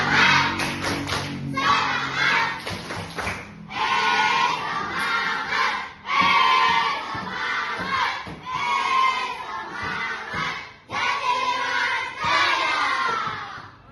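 A class of children chanting and clapping the tepuk semangat routine during a teacher training session, loud rhythmic claps in quick bursts with shouted chant lines, close and energetic.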